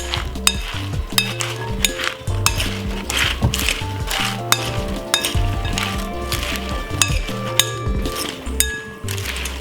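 A simple green salad with sun-dried tomatoes is tossed in a big bowl, with repeated light clinks and scrapes in an irregular rhythm over a steady tonal background.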